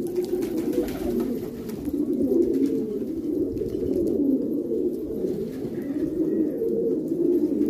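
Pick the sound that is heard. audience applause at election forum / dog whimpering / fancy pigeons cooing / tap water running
fancy pigeons cooing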